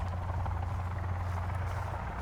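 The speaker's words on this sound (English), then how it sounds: "Like a helicopter. A helicopter." Helicopter in the video game Sons of the Forest, a steady low rotor drone with a rhythmic throb, moderately loud and continuous with no talk.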